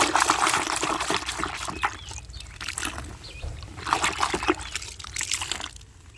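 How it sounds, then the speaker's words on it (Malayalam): Starch solution being stirred into water by hand, giving close, uneven sloshing and swishing liquid sounds that swell and fade in irregular strokes. "നന്നായി തന്നെ കൈകൊണ്ട് അത് നന്നായിട്ട് ഇളക്കി കൊടുക്കണം"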